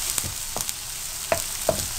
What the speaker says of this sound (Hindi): प्याज हल्का हल्का फ्राई होने लग पड़ा है